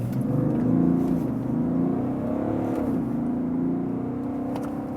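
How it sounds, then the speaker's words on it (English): A BMW 3-Series Touring G21 diesel pulls away hard from a traffic light, its engine droning loudly and rising in pitch through steady acceleration, heard from inside with no talk. "we can also really show you what this diesel is capable of"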